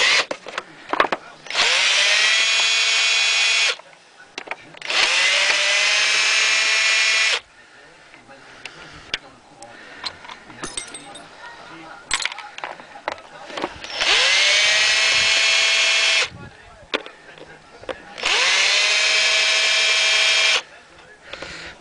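A power drill unscrewing screws runs in four long, steady whirring bursts, each separated by a quiet gap filled with light handling noise, loud and close, with someone speaking briefly between them.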